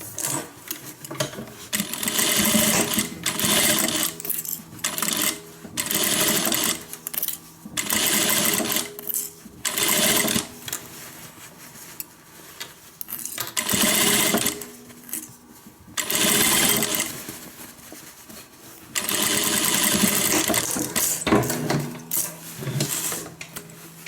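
A sewing machine stitches a guitar-shaped handbag in repeated bursts of close, steady whirring, each run a few seconds long and separated by short pauses.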